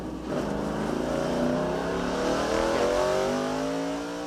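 NASCAR Cup Series stock cars from the 1980s and 1990s race at Charlotte Motor Speedway, a loud continuous roar of several engines with rising pitches as the pack passes close by, with no talk.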